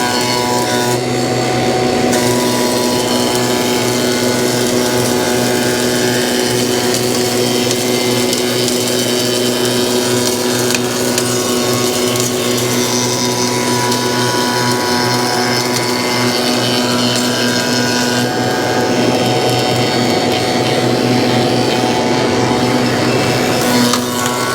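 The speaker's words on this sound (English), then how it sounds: "shut that suction port down on the planer." A planer feeds black locust boards for shiplap in a steady, loud machine drone that runs without a break throughout, with a constant hum and a rough cutting texture.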